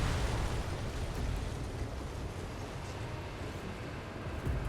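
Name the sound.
missile launch and explosion in Ace Combat 7 video game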